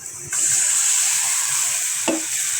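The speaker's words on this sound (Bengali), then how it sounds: "এবার একটু পানি দেবো।" Water is poured into a hot pan of frying spices, including turmeric and chili powder, for a prawn and gourd-greens curry, setting off a sudden loud hiss that holds steady, broken by a light clink of a utensil.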